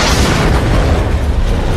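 A bomb blast in a video game trailer: a loud, sustained, rumbling explosion fills the whole short moment with dense low boom and crackle.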